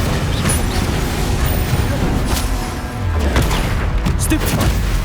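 The Incendio fire spell is cast during a Hogwarts Legacy video game battle, producing loud whooshing blasts and booming impacts over continuous combat noise.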